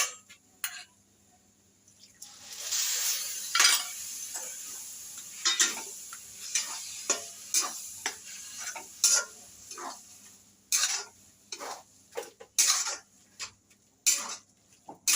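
Grated fresh coconut and milk being stirred in a pan for coconut burfi, quiet scraping and clinking strokes of a spoon against the pan at an irregular pace with brief pauses, close and soft.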